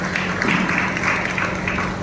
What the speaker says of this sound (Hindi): ताली मार के धन्यवाद देंगे यीशु को।